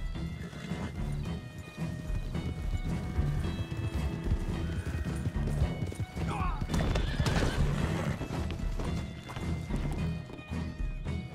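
Horse hooves clip-clop steadily alongside repeated neighing and whinnying from horses in the Western open-world game Red Dead Redemption 2, loud and busy throughout with a brief crash-like clatter midway and faint talk mixed in.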